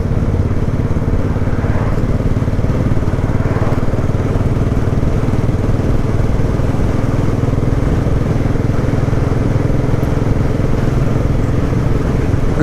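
A Royal Enfield Classic 500 motorcycle on the road, its single-cylinder engine thumping steadily and loudly with constant wind rush, no talk.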